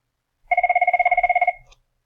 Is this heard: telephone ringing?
yes